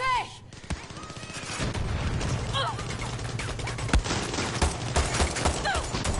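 Gunfire in the Far Cry 6 video game, with rapid bursts of automatic shots and single cracks that keep going over a dense background of game noise and effects, and a voice speaking now and then.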